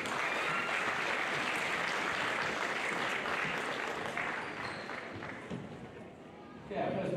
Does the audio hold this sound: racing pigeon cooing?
no